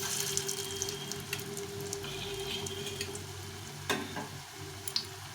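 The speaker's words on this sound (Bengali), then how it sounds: "চারটে চারটে করে ভেজে নেব" Soya bean muitha dumplings fry in a modest amount of oil, a soft, low sizzle with scattered faint ticks and light stirring clicks throughout.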